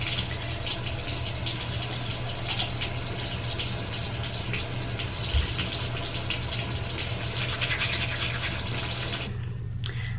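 Steady broadband rush of tap water running from a bathroom faucet to wet a toothbrush, continuous and fairly close for most of the span before cutting off near the end.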